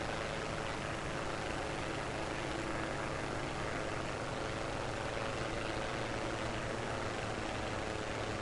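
A player-built aircraft in Trailmakers, made without flap blocks, drones steadily on its landing approach toward a long runway, a dense, constant engine roar with no voices.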